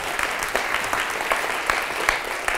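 An audience claps for a woman named Kristina as she leaves the stage, a steady burst of applause from a medium-sized crowd with no talking.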